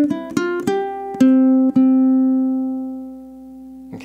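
Opening two bars of Minuet in G on ukulele: a handful of plucked notes in quick succession, then a longer note that rings and slowly fades, with a soft pluck at the end and no talking.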